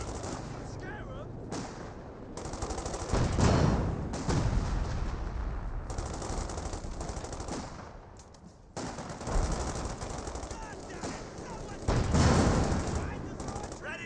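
Battle in the real-time strategy game Company of Heroes 2 on the Spearhead mod: repeated gunshots and heavier cannon-like reports fire into heavy cover, rolling in dense waves with brief lulls, beneath continuous spoken commentary.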